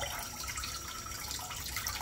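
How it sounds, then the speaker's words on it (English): Rinsed raw chicken squeezed by hand, water trickling and dripping off it in a soft, steady splashing patter close by, with no talking. "After finish rinsing, just squeeze the excess water out"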